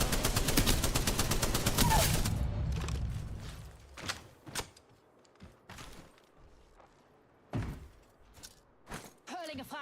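Apex Legends gunfire, a dense burst of rapid shots for the first couple of seconds, then scattered louder single cracks and impacts spaced apart, with voices talking in between.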